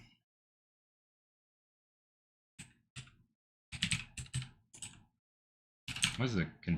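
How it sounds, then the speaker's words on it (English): Typing on a computer keyboard during a coding stream, scattered bursts of close key clicks after a quiet stretch, with a voice speaking in places among the taps. "Keyboard wiggling."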